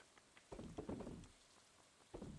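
Green rain falling in Stardew Valley, a soft patter of raindrops coming in short bursts with quiet gaps between them, faint and with no voices.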